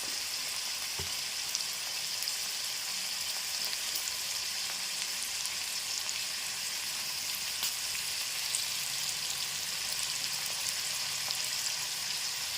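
Broad beans fry steadily in hot oil for a pickle, making a constant, even sizzle close up with a faint clink near the start and no talking.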